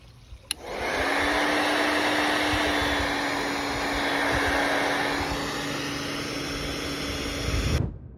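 A hair dryer blows steadily on a small model wind turbine, a loud continuous whooshing drone with a faint hum that starts abruptly, holds for about seven seconds, then cuts off.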